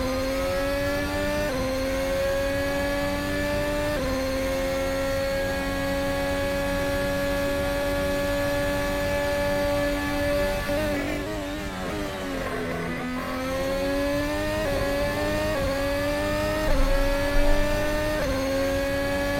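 Race car engine held at high, steady revs through a fast lap, the tone climbing and dipping with gear changes and a brief lift mid-run, loud and continuous with no talk.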